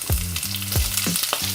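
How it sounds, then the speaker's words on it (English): Swiss chard added to caramelized onions and garlic in olive oil, frying in a pan with a loud, close sizzle and several sharp bursts as the leaves hit the hot oil. "now we're gonna just add this to the caramelized onions and garlic"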